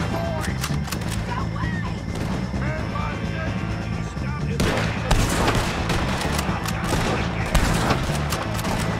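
Gunfire in the video game Red Dead Redemption 2 pops in dense, rapid volleys over rumbling game noise, growing heavier midway through, with voices shouting over the shooting.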